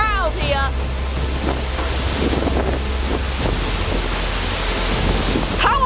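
Strong derecho windstorm roaring steadily and loudly outdoors, with broadband gusting rush throughout as branches fly, while a voice talks over it.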